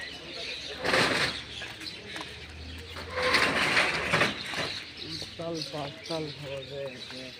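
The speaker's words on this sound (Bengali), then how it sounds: "পাখিদের যে কলকাকলি শোনা যাচ্ছে" Birds chirp and call outdoors beside a canal bridge in a small town, mixed with broad background noise and bursts of rushing sound, with clearer repeated calls toward the end.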